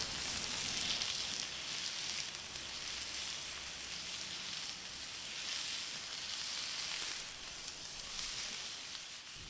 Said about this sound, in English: Now let's add our cast iron pan. Add a little bit of oil and add in our steak.